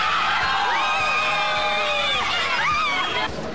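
Real Madrid supporters cheer, whoop and shout outside the Bernabéu stadium, a dense, steady crowd roar with high whistles and yells rising above it throughout.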